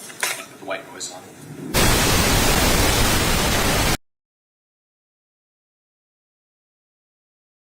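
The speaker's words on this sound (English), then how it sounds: "Put the white noise on." A dense burst of white noise, switched on to mask courtroom audio, roars loud and even for about two seconds right after talk, then stops dead into silence.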